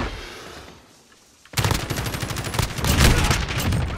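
Kilo 141 assault rifle fire in a video game: after a second and a half of near silence, loud sustained automatic bursts erupt and rattle on densely until the end, with no talking.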